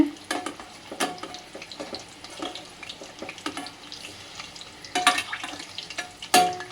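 Soyam urundai, sweet fried dumplings, crackle and hiss as they fry in hot oil. Occasional louder clatters come as the pieces are turned over, all close and continuous with no talk.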